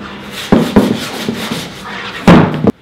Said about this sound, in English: We're just trying to scuff it up a little bit so the primer will